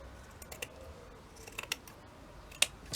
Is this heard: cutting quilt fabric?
yes